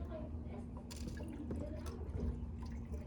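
Water pours into a container with a soft, continuous splashing trickle over a low background hum, lasting a few seconds.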